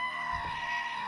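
A goat bleat sound effect played aloud during a tabletop Dungeons & Dragons session, one short wavering bleat heard close and clear over a steady background hum.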